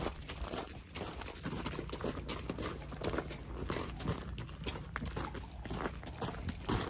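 Hooves of a horse walking on grass, soft uneven clip-clop steps close by with faint rustling and no talk.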